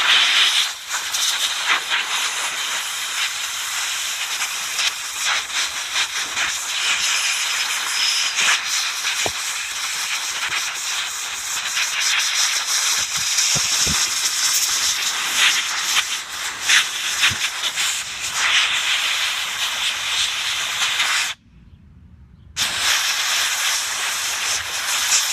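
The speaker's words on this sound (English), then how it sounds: "let's clean it off with some compressed air" Compressed air hisses steadily and loudly as it blows clean a Dolmar chainsaw carburetor, a continuous close blast broken by one brief pause near the end, with no talking.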